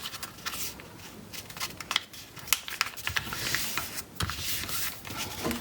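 Paper being folded and flipped to make a bee hand puppet, giving close, uneven crinkling and rustling handling sounds with brief sharp creases, no talking.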